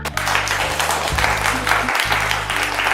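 Audience applause during a family quiz show held at a jewellery store, a steady wash of clapping lasting the full three seconds with a low background hum underneath.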